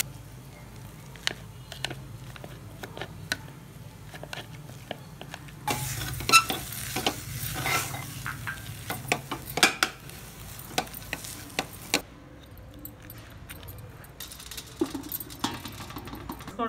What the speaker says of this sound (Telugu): చెంచా అల్లం వెల్లుల్లిపాయ పేస్ట్ వేస్తున్నాను. దీన్ని కూడా వేయించుకోవాలి.